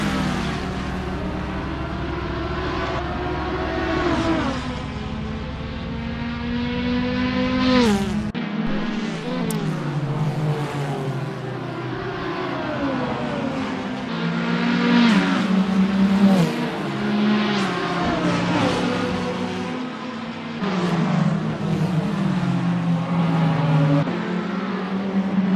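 Lamborghini race cars in a racing video game at Sebring roar with sustained engine drone, rising and falling revs and gear shifts as several cars run close together, loud and continuous without talk.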